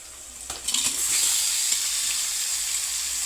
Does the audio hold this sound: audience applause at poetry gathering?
no